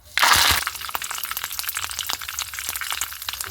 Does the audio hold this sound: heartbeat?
no